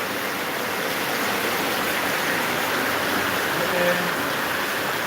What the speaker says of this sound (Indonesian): Hujannya gede banget.